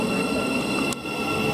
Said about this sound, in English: Why is a Bedford to Brighton train stopping here?